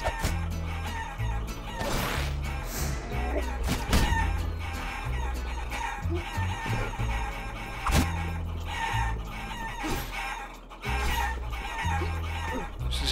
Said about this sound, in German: Das sind die Hühner.